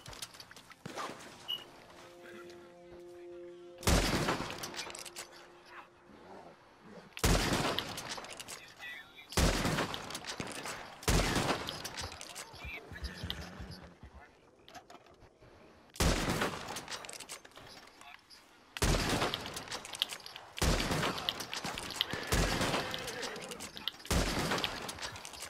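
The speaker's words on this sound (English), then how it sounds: "They just started shooting at me for no reason" Gunfire in Red Dead Redemption 2 comes in sharp, loud bursts of shots at irregular intervals, some in quick volleys, with quieter stretches and some talk between them.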